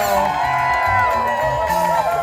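A large crowd at a fan event cheers, whoops and shouts for Emperor Kuzco, a loud, continuous roar of voices.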